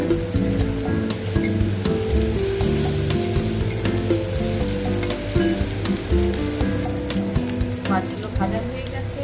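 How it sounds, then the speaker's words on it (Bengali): Prawns frying in a pan for a radish curry, with loud, close sizzling and spitting oil, scattered pops and stirring scrapes, and tonal clatter underneath. "মাছগুলো ভাজা হয়ে গেছে,"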